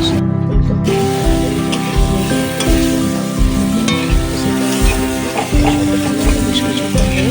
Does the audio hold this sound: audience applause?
no